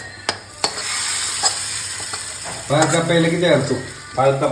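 Onions sizzling in a hot pan, a steady close-up frying hiss with bursts of stirring and crackle as the pieces are moved around; no talking.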